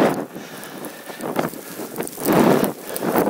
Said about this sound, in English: As you can see, the wind is picking up.